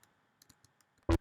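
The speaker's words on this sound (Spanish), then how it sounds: "estoy utilizando este teclado, entonces lo estoy controlando desde el teclado del computador" Computer keyboard keys clicking sparsely at close range, several light taps spaced irregularly, then one louder, sharper click near the end.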